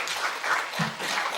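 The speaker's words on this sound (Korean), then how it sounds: "박수로 스님을 모시도록 하겠습니다." Brief, steady applause from a seminar audience welcoming a Buddhist nun to the podium, a continuous patter of many hands without speech.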